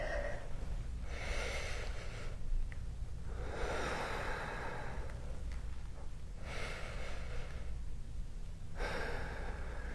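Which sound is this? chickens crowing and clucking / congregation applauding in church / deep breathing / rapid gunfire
deep breathing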